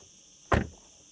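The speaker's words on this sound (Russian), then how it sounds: "Звук закрытия двери нормальный." A single firm thud of a frameless car door shutting on a Ferrari Amalfi, a short muffled closing thump heard close up with nothing else around it.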